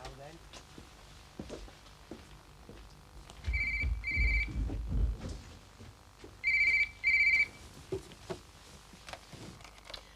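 A telephone rings in two double bursts a few seconds apart, bright and fairly close, with footsteps and rustling in a quiet room between them.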